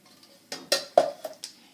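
Cream of wheat (suji) being mixed in a bowl with ragi flour: a handful of quick, close clinks and scrapes of a utensil against the bowl, spaced unevenly, with no talking.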